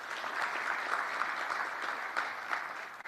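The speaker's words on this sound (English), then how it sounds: "can we please give Ms. Victoria Haihambo another huge round of applause?" An audience at a social media and digital marketing masterclass in Swakopmund, Namibia, claps in a dense, steady round of applause, near and moderately loud, holding evenly throughout with no talk over it.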